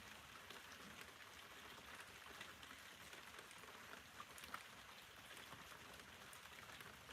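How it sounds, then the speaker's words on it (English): Rain falling on a rooftop, heard from indoors as a faint, steady, continuous patter with no talking. "I hear rain."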